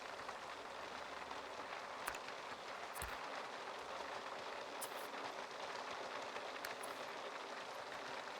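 Steady rain falls in a zombie video game, a constant faint hiss with occasional sharper drops and taps scattered across it, and no voices.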